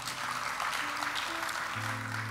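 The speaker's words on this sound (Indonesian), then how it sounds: "berikan tepuk tangan bagi Tuhan Allah kita" A church congregation applauds during a Sunday worship service, a steady wash of clapping under sustained organ or keyboard chords, moderately loud and continuous.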